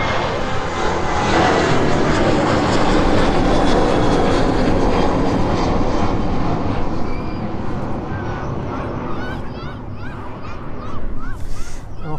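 A Ryanair jet takes off from East Midlands Airport and climbs away, its engines roaring loud and broad throughout, with a steady powerful rumble that begins to fade slightly toward the end.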